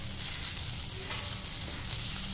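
Dry spices are stirred into a frying beetroot mixture, producing a brief, even sizzling hiss close up.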